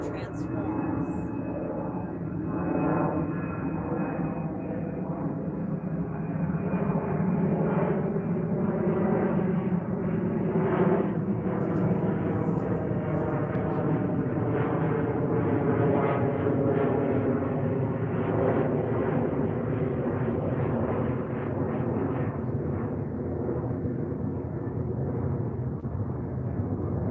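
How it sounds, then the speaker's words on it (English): A loud airplane passing overhead at a San Francisco Bay wildlife refuge, a broad sustained engine roar that holds steady for the whole stretch, with people talking underneath. "I'm wondering if you guys can hear that airplane that just flew over like we did."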